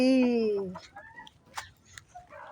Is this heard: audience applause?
no